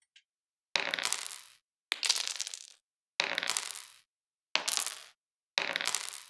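Five separate crunchy shattering bursts of gems breaking, each a sharp glassy break that quickly decays, spaced about a second apart with silence between.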